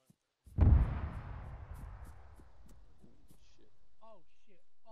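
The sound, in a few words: explosions in a military video game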